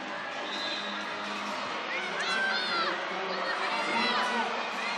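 A basketball crowd in a New Zealand national league game cheers and whoops as the Rams mascot fires out T-shirts, a dense roar of shouting voices with scattered high shrieks throughout.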